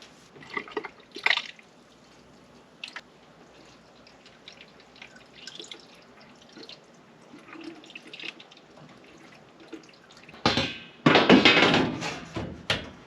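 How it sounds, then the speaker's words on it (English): Scattered drips and small knocks give way to a burst of water splashing and gurgling down a furnace condensate drain as it is flushed near the end, close and fairly loud. "We'll get that in there to sit for a minute and flush it with some water."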